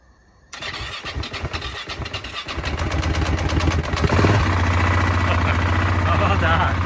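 A Gasgas ES700 motorcycle cold-starting in Canadian winter after about two months unused: a brief silence, then the engine catches and settles into a loud, steady, rising idle close by.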